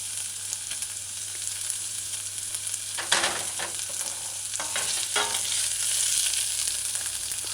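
Chopped vegetables and onions sauteing in a hot pan on a stove at medium-low heat for lo mein, giving a steady sizzle with bursts of stirring and scraping about midway, close and alone.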